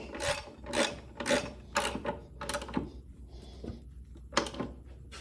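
A wrench works a bolt on the motor mount of a Mini Cooper S R53, a series of sharp ratcheting clicks in regular strokes with short quiet gaps, close and clear.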